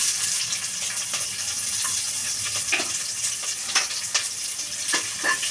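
Onion and curry leaves fry in a sambar tempering with mustard seeds in hot oil, giving a steady close sizzle broken by irregular scraping stirs, with no voices.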